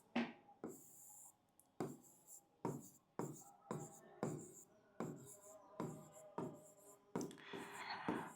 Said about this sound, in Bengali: এখানে লিখি